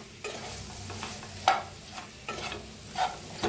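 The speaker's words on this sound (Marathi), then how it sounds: "1 मिनिटभर असंच भाजायचं, म्हणजे बडीशेपू छान भाजलं जातं" Fennel seeds roast in a dry pan for a spicy chilli dish, giving a soft continuous sizzle with occasional scraping and tapping of a spoon as they are stirred, close and without talk.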